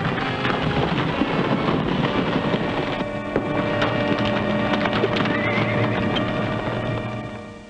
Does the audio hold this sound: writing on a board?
no